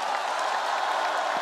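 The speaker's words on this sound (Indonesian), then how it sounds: "Aplaus yang panjang untuk Mr. Lee dan Madam Pai." Sustained applause from an audience at a Tiens company event, a steady dense patter of many hands clapping for the whole stretch with no pauses.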